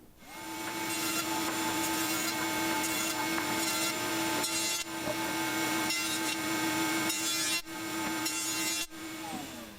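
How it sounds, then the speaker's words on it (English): A router table whines loudly and continuously as it rounds wood edges, with a steady pitched drone and a few brief dips in between passes. "Let's go over to the router table."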